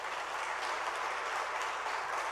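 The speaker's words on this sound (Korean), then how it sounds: "힘찬 박수로 격려해 주시기 바랍니다" An audience at a church assembly candidate speech session claps in a steady, even wash of applause that holds throughout and stops abruptly at the end.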